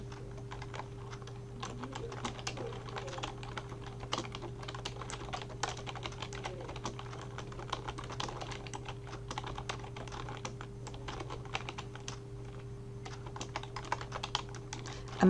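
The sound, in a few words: typing text on a computer keyboard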